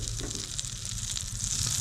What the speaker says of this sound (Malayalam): ഇനി ആ ഉരുകിയ ബട്ടറിലേക്ക് നമ്മൾ സെറ്റ് ചെയ്ത് വെച്ചിട്ടുള്ള ബ്രെഡ് ഇട്ട് കൊടുക്കാം.